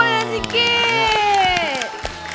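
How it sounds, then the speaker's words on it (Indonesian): A studio audience of children on a Malaysian TV music show claps in scattered, sharp bursts beneath loud, sustained high-pitched cheering and shouting voices that dominate the sound. "Tepuk tangan"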